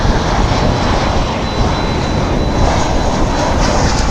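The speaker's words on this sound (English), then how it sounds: "we're getting a flight in from Santa Ana, California" Airliner on a flight from Santa Ana, California, roaring steadily while arriving at DFW Airport, a broad continuous engine rumble that stays loud and even throughout, with no voices.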